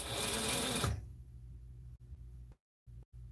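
A domestic sewing machine stitches a Butterick 4790 garment, loud steady whirring for about a second, then stopping abruptly and leaving a quiet low hum broken by brief gaps.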